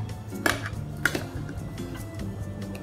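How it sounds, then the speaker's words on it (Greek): A spoon scraping and clinking in a dish while serving freshly baked pudding, with two sharp close clinks early on over quiet background hum and soft scraping. "Τη σερβίρουμε με κουτάλι"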